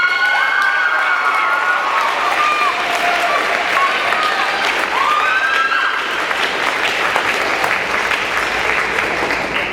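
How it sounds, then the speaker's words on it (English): Concert audience at a band performance claps and cheers for award recipients, a dense, steady wall of applause with whoops and shouts running the whole time, loud and close. "You can go ahead and clap for each one separately."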